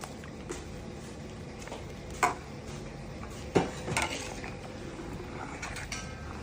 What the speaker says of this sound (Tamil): நல்லா கிண்டி விடுங்க.